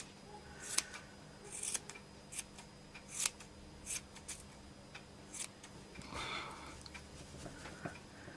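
Scissors trim a wool pompom with a series of crisp, close snips at an irregular rhythm, about a dozen cuts with soft rustling of yarn between them, quiet and without talking.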